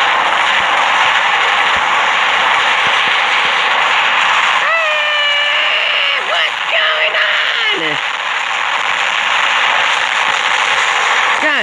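Gunfire from robots battling in the War Robots video game roars as a dense, continuous barrage, with a voice talking over the middle of the fight.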